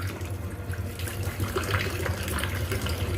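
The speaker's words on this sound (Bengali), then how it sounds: "নল দিয়ে জল পড়ছে নাকি দেখি আয়" Water runs from a tap in a steady, close gush with a splashing, bubbly texture and no talking.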